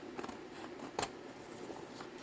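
Scissors cut through paper scrap trimmed from the edge of book pages while making a Victorian folio, a soft continuous snipping with one sharper crunch midway, close and fairly quiet.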